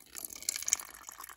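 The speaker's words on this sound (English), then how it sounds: "fill up that water dish there." Water trickles and splashes briefly into a small water dish in a tarantula enclosure, soft and close, with light dripping sounds.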